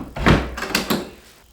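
Drawer of a piece of furniture being pushed or pulled, producing a quick wooden thunk followed by a couple of lighter knocks, close and fairly loud.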